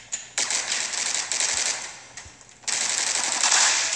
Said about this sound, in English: Submachine guns, let's do this.